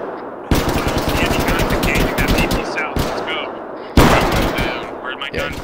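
Rapid bursts of gunfire from several guns in the Arma 3 combat game, dense machine-gun rattling with sharp cracks and a few fresh volleys, loud and continuous.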